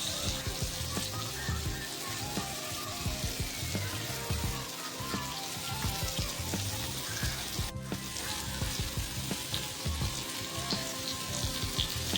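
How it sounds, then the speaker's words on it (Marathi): Halwa fish (pomfret) frying in a pan gives a close, constant crackling sizzle with small popping spatters, and it stays loud and even throughout with no speech over it. "माशांना एक साईडने छान भाजल्या गेल्या आहेत"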